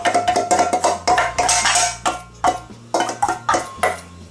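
A spoon quickly whisks fizzing red velvet cake batter in a bowl, producing a fast, steady run of loud, close scraping strokes against the bowl's sides.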